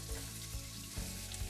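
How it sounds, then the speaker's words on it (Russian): Chopped onion fries in a pan of vegetable oil and butter, giving a steady, close crackling sizzle with small pops throughout and no voices. "Все хорошенько обжарим."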